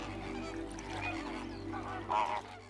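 An elderly flamingo in the salt marshes of the Camargue gives honking, goose-like calls, a few scattered cries over a low steady hum, with one louder call near the end.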